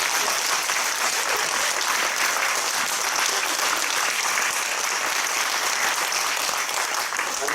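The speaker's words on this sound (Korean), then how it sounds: "우리 나오시면 뜨거운 박수로 축하의 박수 올리겠습니다." Sustained audience applause in a church hall at a Korean alumni association president's inauguration thanksgiving service, a dense, even wash of clapping that holds steady throughout.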